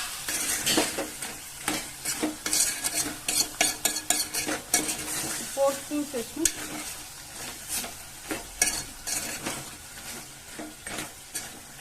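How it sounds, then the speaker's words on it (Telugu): Chili powder frying in hot oil in a pan while making a chicken special curry, heard as close sizzling with repeated stirring scrapes and spoon clinks against the vessel. "ఆయిల్లో మంచిగా కారం అనేది కొంచెం ఆయిల్లో మంచిగా వేగాలి"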